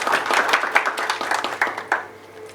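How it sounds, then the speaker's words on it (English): A small audience at a business analysis conference session claps briefly and close by, with distinct individual hand claps in an uneven rhythm that thin out and fade toward the end. "Applause for them."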